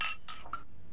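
Glasses clink together in a toast, three quick bright chimes in close succession, near and clear with no voices.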